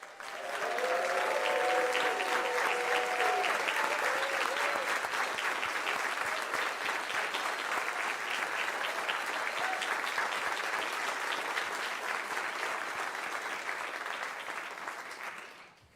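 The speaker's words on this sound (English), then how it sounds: "would all of the finalists please stand so that we can give you all a final round of applause" An awards ceremony audience gives the finalists for North Carolina Principal of the Year a sustained, loud round of applause. It swells quickly and holds steady for about fifteen seconds before fading, with brief voices at the start.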